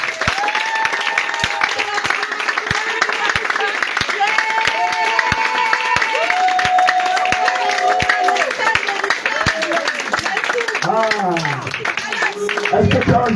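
A congregation at an evening church service in Grand-Bassam claps loud and steady in a regular rhythm, with sustained singing voices carrying over the clapping throughout.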